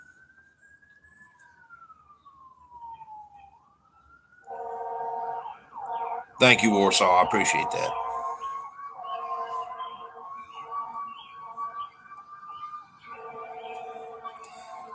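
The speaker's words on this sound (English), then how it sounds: "Sorry about the sirens." Emergency sirens from a nearby jail, fire station and hospital wail and rise and fall outside, moderately distant, with a loud clattering burst midway and someone speaking briefly over them.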